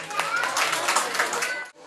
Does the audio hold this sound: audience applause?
yes